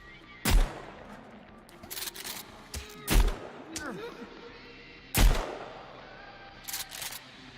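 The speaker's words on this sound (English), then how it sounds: "I love how I can one-hand a shotgun" A one-handed shotgun fires in Sons of the Forest during a fight with cannibals, three loud, separate booms a couple of seconds apart with fainter pops and rustling between them.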